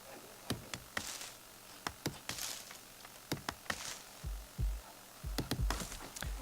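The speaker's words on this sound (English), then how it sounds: "Heartbeat. That means I'm very close." A game heartbeat effect from Godus thumps in repeated soft beats, irregularly spaced and fairly quiet, with short sharp clicks scattered between them and no talking.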